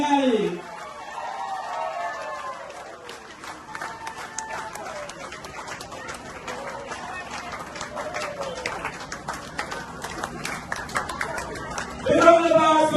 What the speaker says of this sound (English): A big round of applause for His Excellency President Mohamed Fanali.